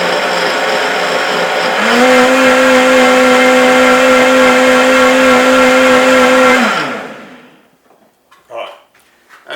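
A blender puréeing zucchini and cumin soup runs loud and steady with a whining motor tone, rising in pitch after a couple of seconds, then spins down to a stop, followed by a few clinks and handling noises.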